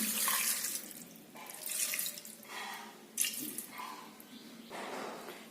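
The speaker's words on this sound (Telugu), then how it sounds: "ఇందులో కొంచెం వాటర్ యాడ్ చేసుకొని" Water poured into a pressure cooker holding goat leg pieces for curry, a splashing tap-like stream running in several bursts, close and fairly loud, with brief pauses between pours.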